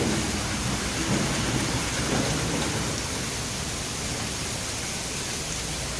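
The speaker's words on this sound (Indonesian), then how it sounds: "Gila, petir." Thunder rumbling through a heavy, steady downpour, loud and constant throughout, with no talking.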